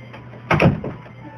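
A door swings open or shut in a single brief clattering knock with a short rattle after it, fairly close in an otherwise quiet room, with no talking.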